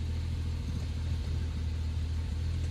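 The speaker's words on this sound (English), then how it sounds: "It's idling nicely at just under 1000 RPM." A 1966 Triumph Vitesse 2-litre engine idles just under 1000 RPM with a steady, low rumbling drone that stays even and quiet throughout, heard alone without talk.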